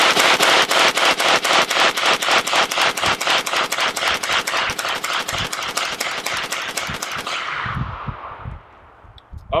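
A Century Arms AK63D AK-47 variant fires continuously during a 500-round torture test: loud, evenly spaced rapid shots for about eight seconds, then the firing stops abruptly.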